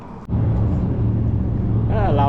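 Loud trucks pass along a street in Holbrook, Arizona, making a close, steady engine rumble that holds for about two seconds, with a rising whine near the end.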